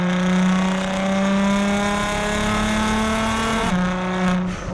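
A 2009 Nissan GT-R R35 tuned to 600 wheel horsepower accelerates hard, its engine drone rising steadily in pitch from inside the car. A brief break, like a gear change, comes near the end before the pull resumes.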